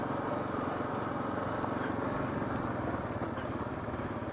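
A 2022 Kawasaki KLR 650 Adventure motorcycle rides along a gravel trail, its engine droning steadily and evenly throughout with continuous low rumble and road noise.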